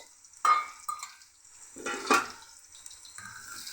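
Sizzling and stirring in a hot pan, with two louder bursts of frying as garlic-ginger paste is added and sautéed, fairly close.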